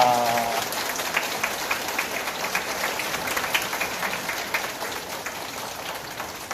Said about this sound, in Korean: 다른 분들은 박수 한번 쳐드립시다